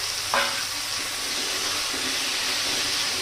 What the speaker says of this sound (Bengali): টমেটোটা ভেজে নেওয়ার পর আমি যে আলু আর গাজরটা ভেজে রেখেছিলাম, আলু গাজরটা কিন্তু এর মধ্যে আমি দিয়ে দেবো।